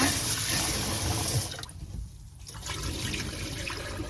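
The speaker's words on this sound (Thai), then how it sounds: "ก่อนอื่นให้เรานำข้าวเหนียว มาล้างสัก สองน้ำให้สะอาดดีก่อนนะคะ" Water sloshing and trickling as sticky rice is washed in a bowl, a steady splashing that briefly quiets midway before resuming, with no talk.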